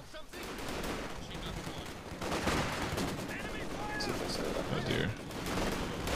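Rapid gunfire in a war strategy video game, with a machine gun position being flanked; dense bursts of shots crackle continuously throughout, mixed with distant explosions, while a person speaks briefly over the noise.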